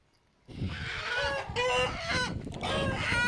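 A rooster on a farm where chickens and roosters are sold clucks and crows close by, several loud repeated calls in bursts after a quiet start.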